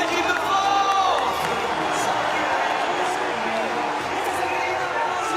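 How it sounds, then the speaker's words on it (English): An arena crowd at a Eurobasket 2015 semifinal between Spain and France roars and cheers for the French team, a loud, sustained wash of voices with an announcer speaking over it. "un tonnerre d'applaudissements pour l'équipe de France."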